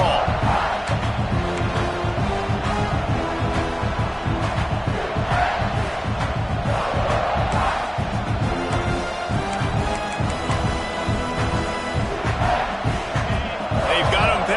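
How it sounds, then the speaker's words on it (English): Loud, dense stadium crowd roar from a college football video game, a continuous wash of cheering and chanting that swells in waves, with commentary voices running over it. "this crowd trying to help keep them there"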